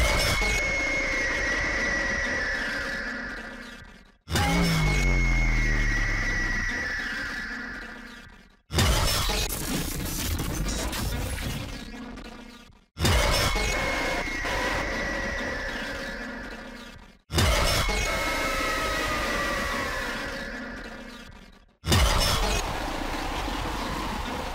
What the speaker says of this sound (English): I didn't even know there were different jump scare sounds